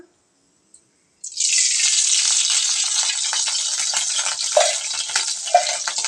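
After a moment of silence, a loud steady sizzle erupts as mustard seeds and urad dal lentils hit hot oil in a kadai, with small pops crackling through it.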